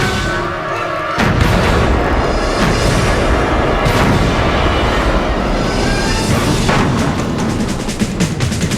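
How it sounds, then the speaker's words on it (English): Powerful booming blast from an artillery gun fired for avalanche control over a mountain pass, a sudden loud onset followed by a long rumbling roar and echo that fills the space. "The breech blast is so powerful, it will kill anyone standing up to 100 feet behind the gun."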